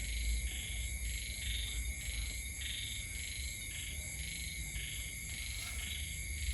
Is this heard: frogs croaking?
yes